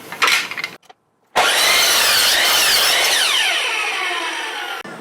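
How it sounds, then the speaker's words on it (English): A miter saw cuts through a wooden board for a guitar hanging rack: a short burst of blade whine, a brief pause, then a loud sustained cutting roar lasting several seconds before it stops abruptly. "Now I'm going to cut this using a miter saw"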